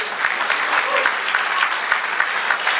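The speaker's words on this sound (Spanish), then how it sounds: "denle un aplauso al Señor" A church congregation claps for the Lord during a Spanish-language service, loud continuous applause with individual claps audible in the dense texture, no one speaking.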